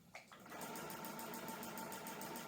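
A sewing machine stitches fabric diagonally for a quilt cat block, starting with a couple of quick ticks and then running in a steady, rapid, even whir of needle strokes, quiet and alone.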